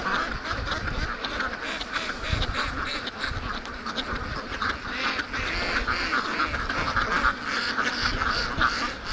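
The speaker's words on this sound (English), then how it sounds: "We got a bunch of ducks that are behind me here." A flock of free-range ducks quacks steadily in a yard, a dense, continuous chorus of overlapping calls at moderate distance with no pauses.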